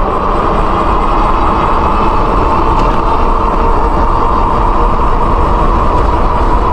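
A Senada Saber e-bike with a 1000W Bafang hub motor accelerating on throttle only, heard as a loud, steady rushing drone dominated by wind and road noise with no talking.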